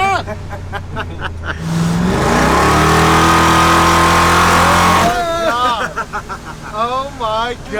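An off-road Mazda Miata engine revving hard at about half throttle, a loud rising roar that holds for several seconds and then drops off, with excited voices talking before and after.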